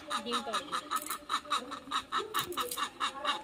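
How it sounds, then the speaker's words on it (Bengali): A hen clucks in a fast, even series of short, close pulses that carry on through the whole stretch. "দেখো সঙ্গে একটা ছোট্ট কালো মুরগিও।"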